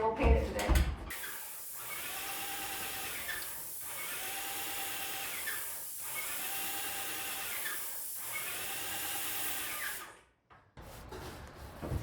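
Spray gun misting primer onto window trim in pulsed bursts, a steady broadband hiss repeated about four times with brief gaps, fairly close and loud, cut off near the end.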